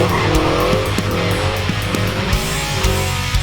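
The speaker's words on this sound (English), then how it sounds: "Is that a Supra?" Toyota Supra engine roaring with tires squealing and skidding, loud and close, a revving drone with sharp squeal bursts repeating over about three seconds.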